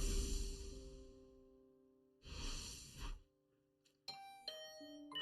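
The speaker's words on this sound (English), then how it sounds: "Is that my doorbell?" A doorbell chimes in a video game (The Hundred Line: Last Defense Academy), ringing twice in close succession with bright ding-dong tones, followed by a higher electronic chime, with soft breathy sounds beforehand.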